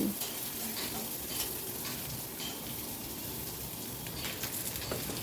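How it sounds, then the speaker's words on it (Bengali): Chopped onion fries in mustard oil in a pan with a steady, loud, continuous sizzle, while a utensil stirs and scrapes faintly underneath, and no voices are heard. "এইবারে আমি দিয়ে দিলাম কেটে রাখা পেঁয়াজ কুচিটা। সব কিছু ভালো করে মিশিয়ে নিচ্ছি।"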